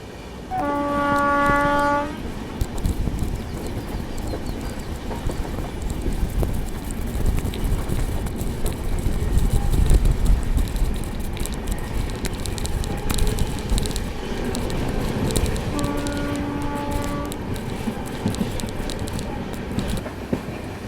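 An Indian long-distance express train descends a ghat section, horn sounding at the start and again later over a continuous loud rumble and rattle of the moving carriages.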